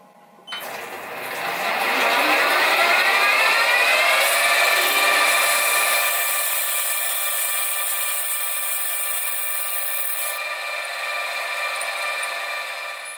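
Drill bit boring a 4.5 mm hole through metal for a Stuart 10V reverse gear part, a steady loud whine rising in pitch as the bit spins up and bites, holding for about ten seconds before easing off.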